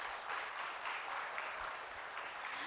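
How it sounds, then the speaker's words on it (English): Steady, sustained applause from a conference audience at a Delhi Web3 event, a dense even wash of clapping that stays moderately quiet and distant throughout. "Let's have a huge round of applause for him."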